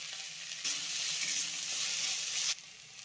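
Chopped onion with crushed ginger and garlic hits hot oil in a pan, bursting into a loud, steady sizzle that holds for about two seconds before cutting off sharply, with no voices.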